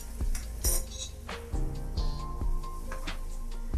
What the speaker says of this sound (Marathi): परत हलवून घेऊयात.